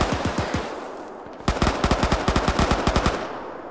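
Nearby 7.62 automatic gunfire in the military video game Arma 3, a few loud shots followed by a fast rhythmic burst of around a dozen sharp cracks.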